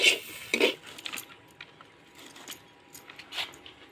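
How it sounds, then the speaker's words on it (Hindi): A spoon clinks and scrapes inside a cooking pot as saag is stirred with turmeric in a rustic village kitchen, with a few bright metallic knocks at the start followed by softer intermittent scraping. "अब चलाएंगे"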